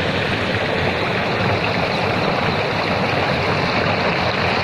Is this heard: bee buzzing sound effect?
no